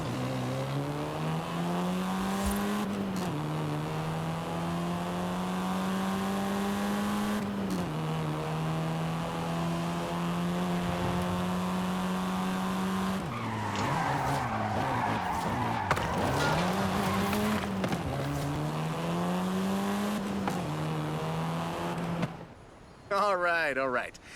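Car drifting in the Forza Horizon 5 racing game: a steady, loud engine drone rises and falls in pitch while the tyres skid continuously, ending in a brief rougher burst.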